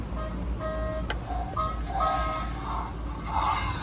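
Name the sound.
Dickie Toys wheelie-popping Nissan toy car sound effects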